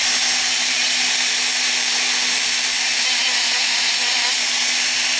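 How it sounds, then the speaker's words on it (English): A power grinder carves wood to shape the toes of a muskrat carving, giving a continuous loud, harsh whine with a steady hum underneath and no break. "I grind away the side of it a little bit to make the toes look separate"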